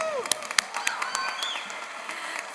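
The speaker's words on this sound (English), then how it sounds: "Give them a round of applause." Graduation audience in Orange County applauding board members as they come up to speak, scattered claps and sharp hand hits over a murmuring crowd, with some indistinct voices mixed in.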